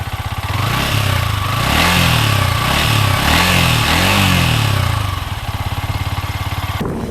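Yamaha R15 V3 BS6 motorcycle exhaust close up and loud: a steady idle, a few quick revs rising and falling in the middle, then settling back to an even, pulsing idle, with no voices.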